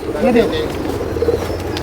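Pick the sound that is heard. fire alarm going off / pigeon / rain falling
pigeon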